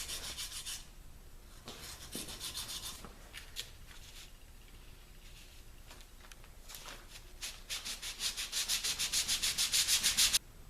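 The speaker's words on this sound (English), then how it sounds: "use some sandpaper, do a little bit more distressing" Sandpaper rubs briskly over a distressed painted wooden bowl with black showing through, the rhythmic scratchy strokes coming close and steady, then speeding into quick repeated passes near the end with no talk.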